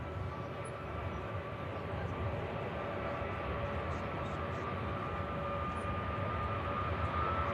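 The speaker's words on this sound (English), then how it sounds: "Ryanair for Copenhagen on the departure roll now." A Ryanair airliner rolls for takeoff at Manchester Airport, its jet engines giving a steady, broad roar heard from a distance, constant in level throughout with no talk over it.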